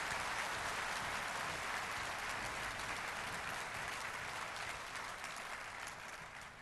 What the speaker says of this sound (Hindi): तालियों के गड़गड़ाहट से उनको स्वागत करिए